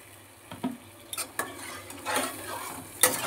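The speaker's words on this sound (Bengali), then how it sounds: "এবার জলটা ঢেলে দিচ্ছি" Water poured into a pan of fish curry on a home stove, with a soft sizzle and splashing rush followed by scattered metallic clinks of a ladle and pan, fairly close.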